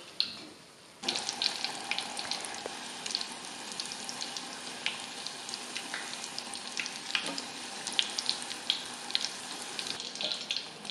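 Battered shrimp frying in hot oil for a crisp coating, a steady dense sizzle and crackle with scattered pops, close by and continuous after a quiet first second.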